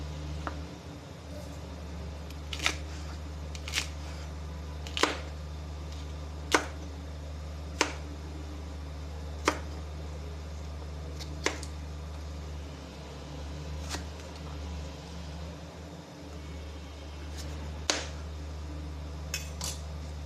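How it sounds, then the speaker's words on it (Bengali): A knife chops cauliflower stalks into small pieces on a board, sharp crisp taps spaced roughly a second or two apart, close and fairly quiet over a low steady background hum. "এভাবে ছোট ছোট করে কেটে নেব বন্ধুরা ডাটাগুলো কেটে নিচ্ছি"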